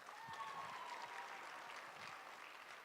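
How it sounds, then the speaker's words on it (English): A crowd at an outdoor political rally gives steady applause that sounds distant and faint, with a few raised voices scattered through it. "Let's give him a round of applause."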